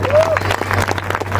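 Brief burst of audience applause at a live Raju Srivastava stand-up comedy show in Fatehpur, Uttar Pradesh. A steady low hum and a short whistle-like tone run underneath.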